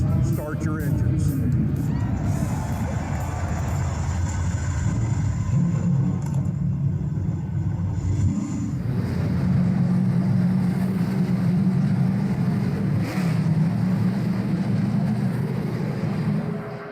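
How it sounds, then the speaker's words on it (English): Race car engines start and rumble at Daytona International Speedway before the Beef It's What's for Dinner 300, a loud, continuous low roar under an announcer's voice over the public address. "drivers, start your engines"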